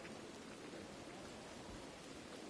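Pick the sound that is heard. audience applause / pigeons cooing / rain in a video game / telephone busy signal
rain in a video game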